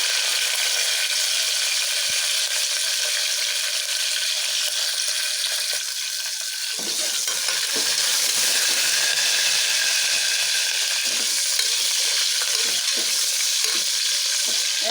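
Spices, mint and seeds fry noisily in a hot pan for a Kannada-style vangi rice bath, with a steady loud sizzle and a change midway as stirring scrapes and clatters through the hiss.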